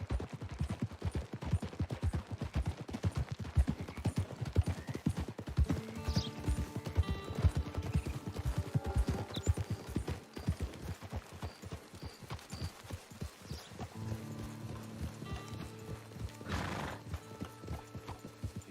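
Hooves of a horse in Red Dead Redemption Online clip-clop in a steady trotting rhythm, joined by whinnies and neighs partway through, with a faint game soundtrack underneath.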